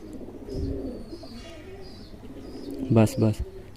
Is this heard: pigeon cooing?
yes